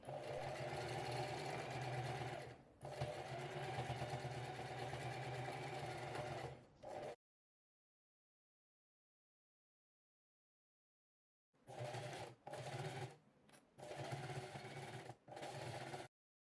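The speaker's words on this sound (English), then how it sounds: "I reinforced the stitches with backstitching at the beginning and end of the seam for durability." A sewing machine backstitches a seam on a quilted cotton tote bag, running in steady mechanical bursts with brief pauses, a long silent gap, then several more short stitching runs.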